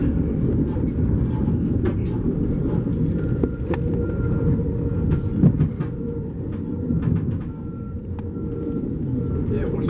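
Harbor trains rumbling past a private railcar in motion, a heavy continuous low rolling drone with faint metallic squeals and clanks; people talk nearby over the noise.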